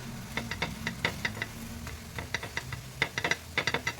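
A bottle gourd thalipeeth roasts on a pan with a soft sizzle, while quick light taps and scrapes of a spatula come in uneven clusters close by.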